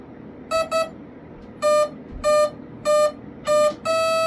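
An RC jet's speed controller gives programming beeps: first a quick pair, then several evenly spaced tones, and a final sustained beep, against a faint background hum.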